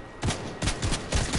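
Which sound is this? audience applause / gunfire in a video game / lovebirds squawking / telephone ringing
gunfire in a video game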